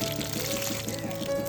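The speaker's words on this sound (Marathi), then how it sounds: "पप्पा पाणी घालून घेतात पुन्हा वरतून" Water is poured over newly planted pineapple plants in the ground, a steady continuous splashing pour at close range with no talk.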